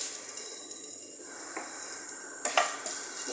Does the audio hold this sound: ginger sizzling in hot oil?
yes